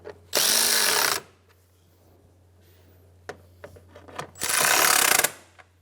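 Two bursts of a power tool or ratchet snugging bolts on a 2010-2015 Lexus RX350 during oil cooler line work, each about a second long, loud and close, with faint clicks between them and no talk.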